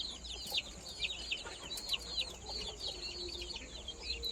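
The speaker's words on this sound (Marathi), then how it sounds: "इथं एक बसली बघा चिनी कोंबडी" Quiet clucking from Chinese chickens on a village poultry farm, scattered short calls from several birds close by, with no talk.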